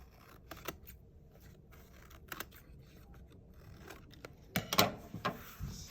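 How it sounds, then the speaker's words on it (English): Scissors snipping off excess paper while making a cityscape snow globe: scattered sharp snips and light paper rustles, quiet and close, with a louder cluster of cuts and rubbing near the end. "all of this excess that's down here, we're just gonna snip off"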